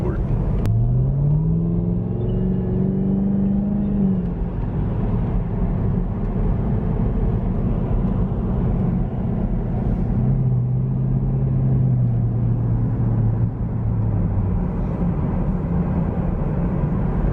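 A car in sport mode drones steadily from inside the cabin, with a loud engine rumble, a couple of rising tones as it accelerates, and someone talking over the noise.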